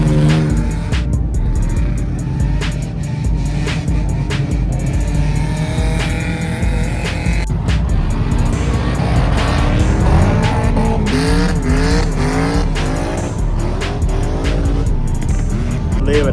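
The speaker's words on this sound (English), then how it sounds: "But I'm about to go watch them drift up here." Cars drift on a track at the Import Alliance Atlanta 2025 car show, with repeated loud tire squeals and screeches rising and falling over revving engines.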